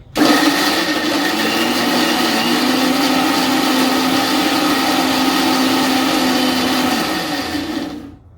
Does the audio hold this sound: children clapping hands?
no